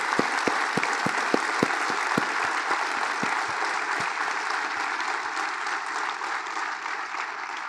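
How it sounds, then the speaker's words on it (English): A hall full of people applauds at a university convocation ceremony, a broad steady clatter of many hands with a few sharp, close claps standing out early on, continuing evenly throughout. "I think it deserves a much, much bigger round of applause"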